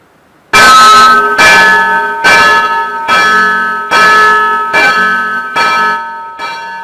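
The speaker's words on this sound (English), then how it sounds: "The bell of democracy is ringing." A loud church bell rings in a steady series of about eight resonant strikes, each ringing tone overlapping the last, with no voices.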